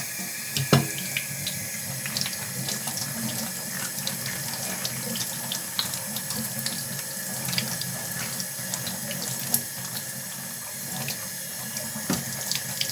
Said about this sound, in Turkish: Evet şimdi suyla yıkayacağım.